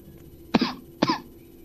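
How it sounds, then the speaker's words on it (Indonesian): Two distinct coughs from a man lecturing indoors, close and moderately loud, with a short pause between them and no speech. "aduh maaf ini saya lagi batuk ya."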